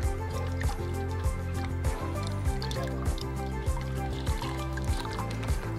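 Cracked corn substrate gets washed in water to rinse off mould, with repeated drips, squishes and small sloshing splashes that keep a loose, regular rhythm close by. No one speaks.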